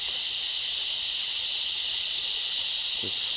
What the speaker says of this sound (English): apart from the noisy cicadas